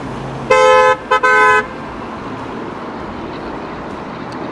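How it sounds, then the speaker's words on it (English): A car horn honks in street traffic: one long blast, then a short tap and another sustained blast, loud and close, before traffic hum resumes. "Hopefully those are happy beeps."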